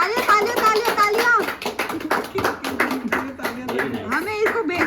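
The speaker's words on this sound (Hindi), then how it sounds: "तालियां।" A few people at a small home gathering clap in a quick, uneven burst of hand claps, with voices and excited talk running over the claps throughout.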